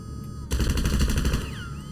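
Automatic gunfire in GTA 5 Online erupts after a short quiet moment as a rapid, loud burst of shots that runs for about a second and a half.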